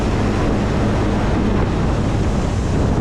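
Strong outdoor wind roars steadily into the microphone as a dense, loud rush of buffeting noise with no pause, heard during outdoor seed cleaning.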